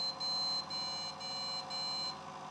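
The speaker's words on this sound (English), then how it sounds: "That's 5 beeps there for anyone who cares." A £35 secondhand PC's motherboard sounds a beep code: a run of short electronic beeps, faintly separated, over a steady fan hum at close range, with no talking.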